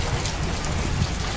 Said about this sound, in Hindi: तेज़ तेज़ बारिश हो रही है